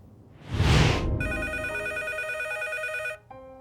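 A telephone rings close by, an electronic warbling bell tone repeating steadily for about two seconds before cutting off, after a brief rustle or breath at the start.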